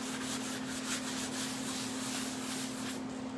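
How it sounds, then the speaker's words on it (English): Steady, continuous sandpaper rubbing against the painted surface of a flower pot, sanding it back to reveal underlying colours; close, even and unbroken, with a constant low hum underneath and no talking. "I'm just going to sand it back a little bit."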